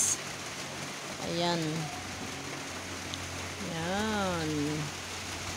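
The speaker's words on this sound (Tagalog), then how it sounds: "Sobrang lakas ng ulan." Heavy rain falls steadily on a cold, foggy morning, a constant hiss that runs under two short bursts of someone talking nearby.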